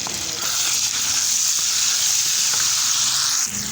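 Potatoes, paneer and tomatoes sizzle loudly and steadily in a hot pan, a continuous frying hiss with a faint stir near the end.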